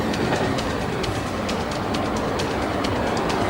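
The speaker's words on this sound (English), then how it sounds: "Wait a minute. This is our train." A train rolling along the rails in Burgundy country, a loud, close, continuous rumble with faint rhythmic clicks from the track and a few bird calls in the background.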